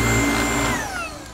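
A MOOSOO U19 cordless 5-in-1 upright vacuum cleaner with a 2200mAh battery and an LED floor head runs close by: a steady motor whine with layered tones whose pitch slowly drifts downward, with no talking.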